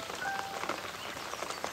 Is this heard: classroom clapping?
no